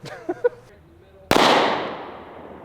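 A single loud handgun shot fires a MER-COR mercury hollow point round outdoors, a sharp crack with a long decaying echo, preceded by a few brief quiet clicks and sounds.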